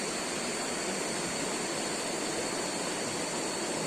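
The Are River flowing near Baduy Dalam: a steady, even rush of water, broadband and unchanging, heard alone at moderate volume with no voices.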